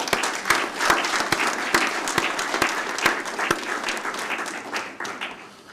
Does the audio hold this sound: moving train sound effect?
no